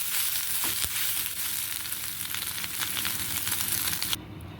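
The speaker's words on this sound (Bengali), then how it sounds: "দেখুন সয়াবিনগুলো আমার ভাজা প্রায় হয়ে এসছে" Soybean chunks fry in hot oil in a wok, a dense, steady sizzle that stays loud and close throughout, then drops off sharply just before the end.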